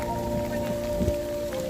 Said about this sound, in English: It's raining and snow and hail and thunder.